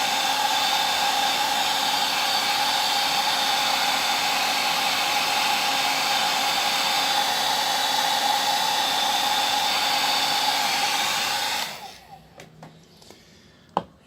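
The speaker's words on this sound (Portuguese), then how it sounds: "vamos passar o secador nas rodas" A hair dryer blows steadily and loudly at close range for about eleven seconds while paint dries on the wheels of a miniature war chariot, then cuts off, leaving a few faint handling clicks and a sharp knock.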